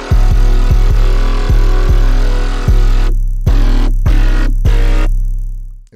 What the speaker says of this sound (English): Very aggressive 808 for sure, and it's only playing one note, but it follows the melody